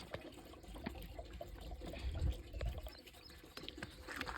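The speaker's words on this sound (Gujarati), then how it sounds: "હાલો આપણે પાણી ભરી નાખીએ પોપમાં" Water pours and trickles into a pesticide sprayer pump tank, a faint, uneven splashing that swells in the middle.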